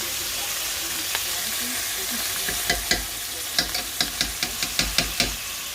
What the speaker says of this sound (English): that's all going to be mixed into the sauce which is cooking